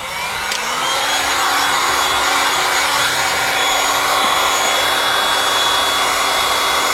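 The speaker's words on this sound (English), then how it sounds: "And what we do is we start heating up the surface." A heat gun or hot-air tool blowing steadily across a surface, starting at one end: a loud, continuous airy roar with a faint whine, holding constant from start to finish with no talking.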